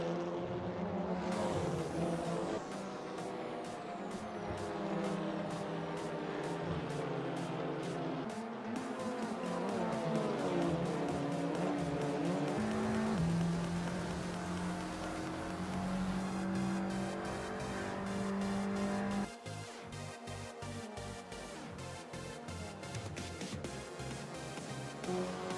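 A race car laps a fantasy mod track called Frankenstein in the Assetto Corsa racing game, its engine note climbing and dropping through repeated gear changes at close range, with occasional tire squeal and no talking.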